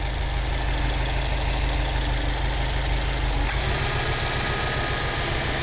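A 2020 Subaru WRX STI's 2.5 turbo engine idles up close, a loud, steady, slightly lumpy throb with a brief click partway through, no voices.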